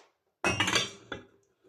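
Plates and dishes clink and clatter as they are gathered up after a meal, one close, bright burst of ceramic knocks followed by a shorter second clink, with no talking.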